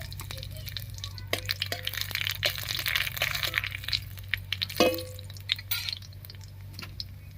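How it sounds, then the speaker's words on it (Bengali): Dried red chillies and nigella seeds fry in hot mustard oil in a kadai, giving a soft continuous sizzle broken by scattered crackles and pops, with a low steady hum beneath. "তেল গরম হয়ে গেছে তেলের মধ্যে দেবো কয়েকটা শুকনো লঙ্কা দিয়ে দিচ্ছি হাফ চামচ মতো কালো জিরা"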